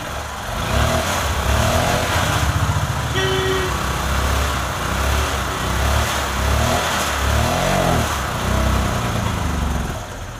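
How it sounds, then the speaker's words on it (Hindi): A Honda CB Unicorn Stunner motorcycle engine turns over and runs steadily, its revs rising and falling in waves for about ten seconds with no voices. "तो सबसे पहले मैं इसकी बाइक स्टार्ट करता हूँ"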